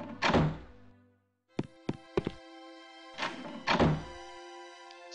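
Heavy doors in a video game slam and clunk, a few sharp thuds and quick knocks separated by short silences, with ringing tonal game sounds trailing after some impacts.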